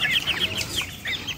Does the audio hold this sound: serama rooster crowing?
yes